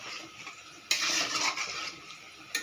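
Chicken curry (mangsho kosha) is stirred in a pot as a little hot water goes in, with scraping strokes and a sudden hissing burst that settles into sizzling, close and clear.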